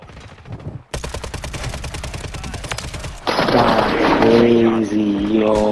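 Rapid bursts of automatic gunfire from WSP-9 and MCW guns in a first-person shooter video game, dense and loud at first, then joined by a louder blast and ringing tones, with someone talking over the shots.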